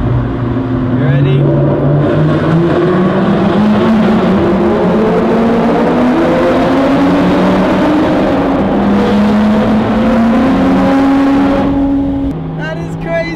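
Loud engines of a Lotus Exige Sport 380 and a Ferrari Speciale among other supercars echo through road tunnels, with revs rising and falling steadily for over ten seconds before easing off.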